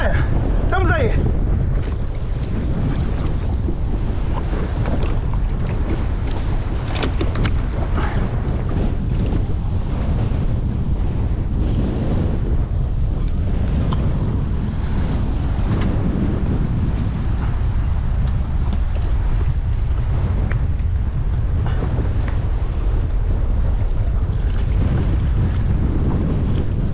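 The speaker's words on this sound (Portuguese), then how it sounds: "Ventania forte, ondas." Strong gusty wind and waves on a beach shoreline, a constant loud rush of wind buffeting the microphone over a low surf roar, sustained for the whole stretch.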